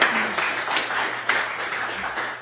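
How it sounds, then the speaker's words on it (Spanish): An audience at a talk applauds, producing a brief, steady wash of clapping from many hands at moderate loudness, with no individual claps standing out. "Un aplauso."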